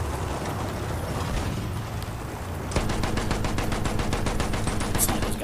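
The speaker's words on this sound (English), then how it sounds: "Sniper's got no chance against my sniping machine gun." Rapid machine gun fire in the World War I shooter Battlefield 1, with a dense roar of battle noise giving way to a steady, loud stream of evenly spaced shots that runs to the end.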